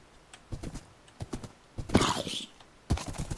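A horse gallops in the Minecraft video game, with its clip-clop hoofbeats coming in irregular bursts and a louder snort or whinny near the middle. No one speaks.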